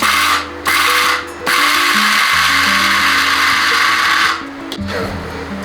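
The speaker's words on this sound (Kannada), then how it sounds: "ಇದನ್ನೆಲ್ಲ ಇವಾಗ ನಾನು ಮಿಕ್ಸಿಗೆ ಹಾಕ್ಕೊಂಡು ಸಣ್ಣ ಮಾಡ್ಕೊತಾ ಇದ್ದೀನಿ" A kitchen mixer grinder whirs loudly as it grinds dry fruits for laddu, running in steady bursts separated by brief pauses when the motor is stopped and restarted.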